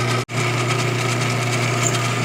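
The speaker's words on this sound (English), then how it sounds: "Everybody's just drilling himself a hole right through the middle of that" A small lathe drills a hole through a part with a steady, close mechanical hum and whine. The sound cuts out briefly near the start, then runs on evenly.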